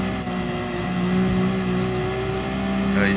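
Race cars including a Nissan GT-R in Gran Turismo Sport, three abreast entering the final corner, engines droning steadily with a rising rev at the end under faint commentary.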